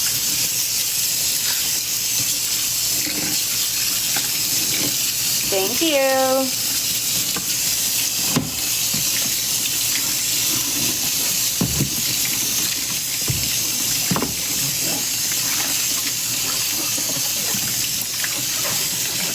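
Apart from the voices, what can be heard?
water running from a faucet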